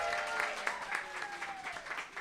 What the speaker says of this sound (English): Round of applause for Jim Henson.